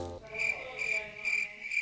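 A person imitates a frog croaking with a string of repeated, buzzing croaks in a steady rhythm, fairly loud and close with no other sounds.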